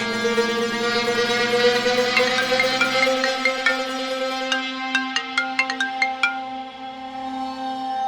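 A mobile phone ringtone plays loudly nearby, a melodic electronic tune with sustained tones followed by a run of bright plucked notes.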